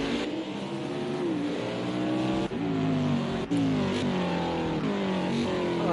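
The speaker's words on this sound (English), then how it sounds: "It's just to do burnouts in the pits." A Trans Am race car at Long Beach revs continuously during pit burnouts, a loud sustained engine roar with shifting pitch and brief dips, close and dominant throughout.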